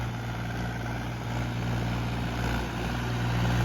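A Mahindra 265 DI tractor with its original paint runs its engine at a steady idle, giving a continuous low, even drone that holds without a break throughout, with no voices.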